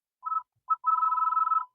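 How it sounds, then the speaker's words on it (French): A Suzuki car's ringtone at its loudest volume setting chirps twice in short bursts, then rings in one sustained trilling tone before stopping. "Nous pouvons vérifier les volumes de la sonnerie."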